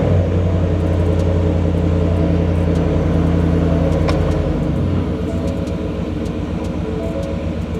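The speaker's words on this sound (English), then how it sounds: "we'll start the truck up and we'll check out the reverse lights" A Ford F150 Tremor pickup truck starts up and idles close by, a loud, steady low rumble that settles into a smoother idle partway through.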